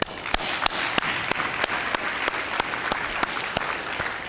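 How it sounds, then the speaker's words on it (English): A louder, fuller round of audience applause at a college speech night: a thick, continuous wash of many hands with a regular synchronized beat running through it, sustained for several seconds. "we won't continue if I don't hear louder clapping"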